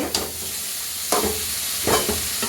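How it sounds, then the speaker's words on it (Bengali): Fried potatoes and chicken being stirred in a spiced masala in a pan, giving a steady close sizzle with three scraping stirs of the spoon. "ভাজি হচ্ছে"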